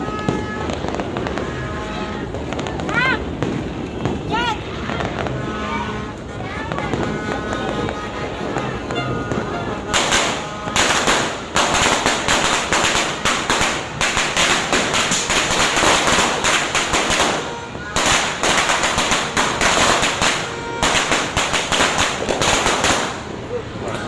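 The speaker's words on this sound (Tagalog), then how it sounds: "Dito sila nagpapaputok sa may kalsada." Repeated firecracker bangs and crackling fireworks, loud and dense in bursts from about ten seconds on, with lighter popping and faint voices earlier.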